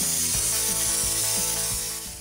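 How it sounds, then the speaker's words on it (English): Duplicolor edge primer hisses steadily from an aerosol can onto a 1969 COPO Chevy Camaro floor. The spray is loud and continuous and tapers off at the end, with faint rhythmic knocks underneath. "This stuff is very easy to spray."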